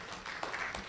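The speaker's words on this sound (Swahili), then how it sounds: "Tumpige makofi basi mzee wetu." An audience applauding an elder at a live forum: a short, dense wash of clapping from many hands, moderately loud and steady.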